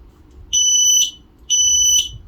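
An AEGISLINK S-RF500 smoke detector, set off by its test button, lets out two loud, shrill, evenly spaced beeps close by.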